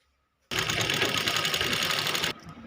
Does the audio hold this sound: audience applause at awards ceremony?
no